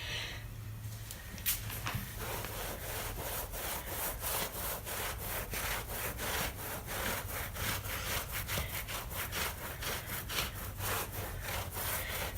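A glass mosaic is scrubbed to lift dry grout off its surface, with steady rhythmic rasping strokes repeating quickly and evenly, close up and alone.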